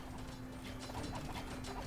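Horses trotting in Age of Empires 2 Definitive Edition, with a steady clip-clop of hooves over a continuous game soundscape with a low hum, fairly quiet and without talk.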